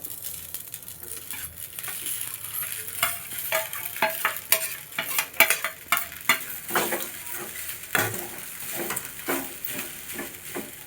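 White rice being stirred into puliyogare powder in a pan, a steady run of scraping and clinking spoon strokes over a soft sizzle, close and busy throughout.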